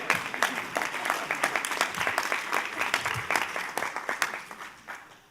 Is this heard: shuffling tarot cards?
no